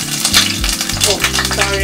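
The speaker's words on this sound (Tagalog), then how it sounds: "Tapos, mag-fry naman tayo ng onion." Onion frying in a pan, a loud close sizzle with clattering utensil scrapes and knocks running throughout.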